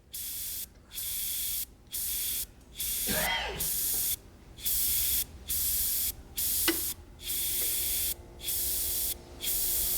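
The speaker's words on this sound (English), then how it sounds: "That compressor is starting to get a little noisy." An airbrush sprays paint in repeated short bursts of hiss at a steady rhythm, close and loud. An air compressor hums continuously underneath, and a brief clink is heard midway.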